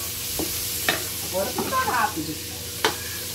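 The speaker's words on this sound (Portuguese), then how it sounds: "Aí agora vamos colocar a cebola aqui pra fritar." Onion frying in a hot pan, with a soft background sizzle and a few sharp clinks of a utensil stirring, while someone speaks briefly in the middle.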